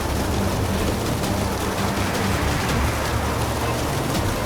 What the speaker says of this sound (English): The wind is picking up and the rain is falling.